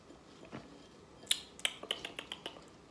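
Crisp crunches of deep dish pizza flavored cheese curls being chewed up close, a quick series of about eight sharp, snappy bites speeding up in rhythm over quiet background.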